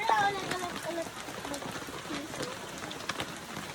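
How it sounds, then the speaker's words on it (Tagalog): Steady rain pattering on a surface on a farm, a soft continuous hiss with scattered drop hits, while a person talks over it. "Ayan, nagpaulan na. Umuulan."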